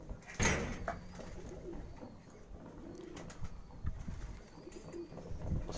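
A racing pigeon coos softly in a few low, repeated murmurs, with a brief flutter of wings early on, all faint against quiet background noise.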